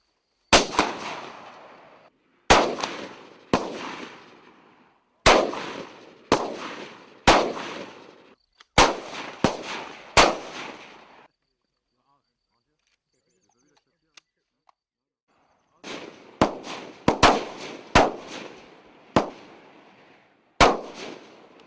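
FAMAS rifle fire cracks out in short bursts of sharp, loud shots with echoing tails, an outdoor range setting, a long silent gap midway, then more rapid shots.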